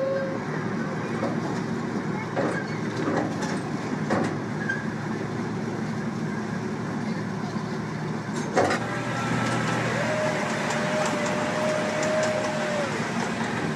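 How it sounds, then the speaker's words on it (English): A train rolls past steadily with a continuous rumble and rattling, a couple of sharp clanks, and a brief horn-like tone near the end. "Here comes the train."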